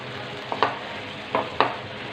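Sliced tomatoes being stirred into a pan for chicken corn spaghetti, with a steady soft sizzle broken by four scraping stirs in two close pairs, near and fairly quiet.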